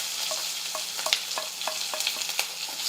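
Mustard seeds, cumin, chopped onion and curry leaves fry in hot oil with a steady close sizzle, while a spoon stirs the pan with regular light clinks and scrapes.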